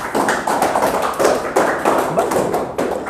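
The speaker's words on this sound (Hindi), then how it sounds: "ताली इस बच्चे के लिए जिसने बताया" Students in a classroom clap in quick, uneven bursts to praise a classmate, the close, dense patter of hands sustained with little pause throughout.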